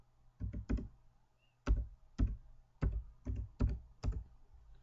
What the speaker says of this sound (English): You type it in.